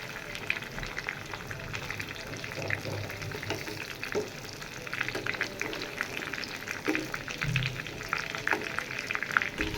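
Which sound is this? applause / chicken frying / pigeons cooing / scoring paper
chicken frying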